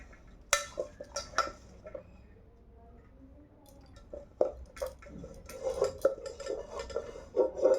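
Rice being served onto a plate for a simple home dinner, with scattered clinks of a metal spoon against dishes and soft scraping and squishy scooping, intermittent and close, with faint talk in the background.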